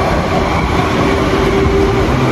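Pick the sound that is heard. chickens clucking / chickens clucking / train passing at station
train passing at station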